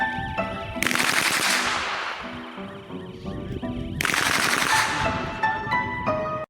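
A gun mounted on a robot dog fires full auto in two long, loud bursts of rapid shots, separated by a short pause.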